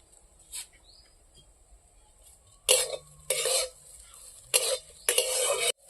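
Mustard greens being fried in a pan, heard as several loud, separate bursts of scraping and stirring with a faint sizzle between them. Kitchen clatter breaks through the quiet, close by.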